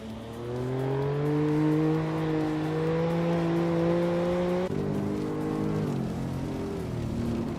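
A 1998 Porsche 911 Turbo S engine in a racing video game drones loudly and steadily, pitch climbing slowly through a long pull before dropping and shifting around the fifth second, with several engine tones layered together.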